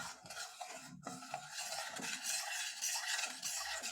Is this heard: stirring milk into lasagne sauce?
yes